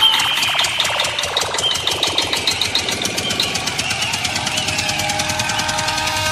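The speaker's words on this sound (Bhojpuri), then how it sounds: "जनरेटर बंद हो गया भैया। चालू कर जनरेटर।" A generator engine runs loudly at an outdoor DJ event, a steady, fast mechanical chugging with a sweeping rise in tone early on, settling into an even drone with no one talking.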